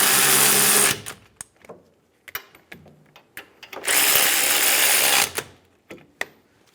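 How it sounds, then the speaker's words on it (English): A power tool on a 2008-2017 Buick Enclave snugs down caliper bracket bolts during a parking brake shoe job, with two loud sustained whirring bursts separated by sharp clicks and clanks. "Snug the bolts down."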